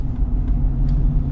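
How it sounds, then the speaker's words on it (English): A new Ford Super Duty's gas engine rumbles while driving, a loud, steady, deep drone with no break and no voices. "this sounds like a muscle car"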